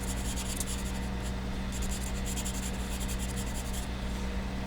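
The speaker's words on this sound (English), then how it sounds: "because mine's charcoal, I can actually smudge it to spread it around" Charcoal smudged and rubbed across paper makes a steady, close scratchy rasp that runs on without pause, with no voices.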